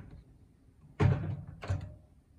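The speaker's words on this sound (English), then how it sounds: "The Breville Smoothwave also has a soft close door." The soft close door of a Breville Smoothwave microwave shutting: a quiet muffled thunk followed about half a second later by a softer second bump as the latch settles, alone in a quiet room.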